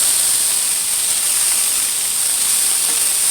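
Food sizzles steadily in a newly seasoned frying pan, a loud, continuous hiss with no break and no voices.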